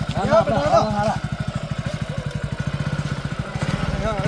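A motorcycle engine idles with a steady, rapid thudding putter that carries on throughout. Voices talk over it at the start.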